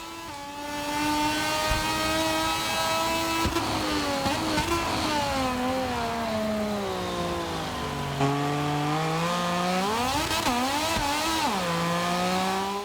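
A racing motorcycle engine from a MotoGP video game's career mode screams loud and close, its pitch sliding down on deceleration and climbing again through gear changes, with no voices over it.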